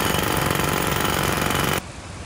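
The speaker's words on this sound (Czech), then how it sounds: "Vrtačkou tady bůra, to zvládneme." A power drill hammers at concrete pillars during a building demolition, a loud, rapid, continuous pounding that stops abruptly near the end, leaving a quieter rumble.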